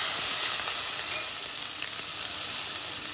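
Vadagam drops into hot oil with mustard seeds, producing a dense, continuous crackling sizzle close by with no pauses.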